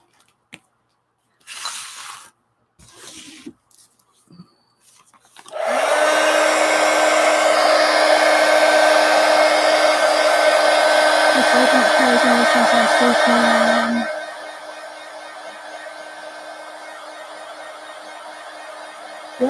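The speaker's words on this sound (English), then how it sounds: "let me hit this with the heat gun" A heat gun blows hot air over artwork while drawing. A few scattered clicks and handling sounds come first, then a loud steady roaring whine runs for about eight seconds before dropping to a quieter hum.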